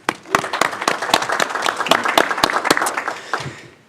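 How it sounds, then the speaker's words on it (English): A round of applause at a school district board meeting welcoming a new executive leadership team member, dense clapping from a room of people, steady and close for nearly four seconds before thinning out. "Let's give a round of applause."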